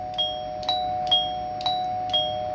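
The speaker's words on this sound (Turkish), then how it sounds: "Basınca çalışıyor zil abi beyler." An electric doorbell rings five times in an even rhythm as its button is pressed, each ring a bright, clear chime standing alone over a faint hum.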